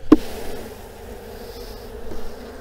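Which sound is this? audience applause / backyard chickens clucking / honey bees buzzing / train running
honey bees buzzing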